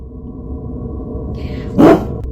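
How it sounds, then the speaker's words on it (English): A single loud, sharp dog bark cuts through a low rumbling background near the end. "Immediately after the whisper, Charlie barks again"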